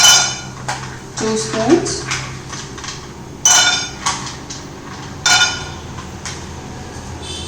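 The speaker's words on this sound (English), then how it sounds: "for the masalas I am going to now dry roast peanut" Peanuts dry roast in a metal pan, with sharp clanks and scrapes of a utensil against the pan in a few distinct bursts, while a person talks over the sounds.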